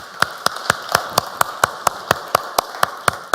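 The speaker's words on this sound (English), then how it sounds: "I just want to offer a round of applause for everybody who stepped on this stage today and managed to make it happen" Sparse, evenly spaced claps at the close of an energy panel, sharp individual hits about every quarter second, fairly near and without voices.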